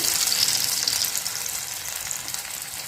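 Alu vadi, colocasia leaf rolls made with jowar and gram flour, frying in hot oil, a loud, steady hissing sizzle that fades slightly over a few seconds with no voices.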